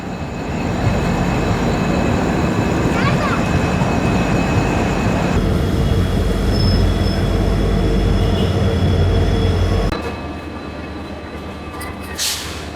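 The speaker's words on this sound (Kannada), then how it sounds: "ನಮ್ಮ ಟ್ರೈನ್ ಇವಾಗ ಎಂಟ್ರ್ ಆಗೈತ್ರಿ ಚಿಕ್ಕಬಳ್ಳಾಪುರ ಜಂಕ್ಷನಿಗೆ" A crowded passenger train runs into Chikkaballapur junction with a loud, continuous rumble and clatter of wheels on rails. The noise drops sharply near the end to a quieter, steadier interior hum.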